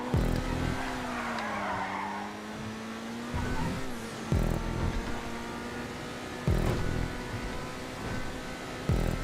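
A drifting car in GTA 5 skids through a custom race track, its engine droning steadily while tires squeal in long sustained bursts, with sharper screeches recurring every couple of seconds.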